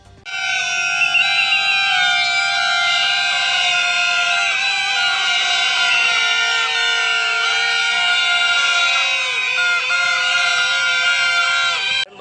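Loud wailing sirens blare continuously at a street protest, with layered pitches sliding and overlapping and no pause for about twelve seconds; individual whistles or pungi are not clearly separable.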